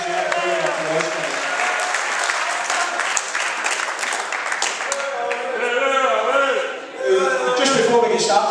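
Sustained clapping fills the room at the Clydebank FC awards night, a thick even round of applause that carries on for several seconds as a voice speaks over the top and it begins to thin out.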